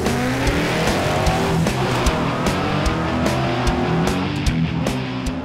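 Drag racing car with a retuned big-block engine making a track run, a loud sustained engine roar with rising revs, close and steady for several seconds.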